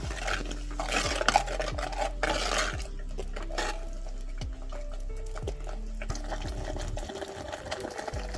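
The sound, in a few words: masala being mixed and boiled in a pot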